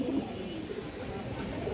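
Maxi Giribaz pigeons with stone-coloured eyes give low, soft cooing, a steady muffled murmur at moderate distance, with no talking.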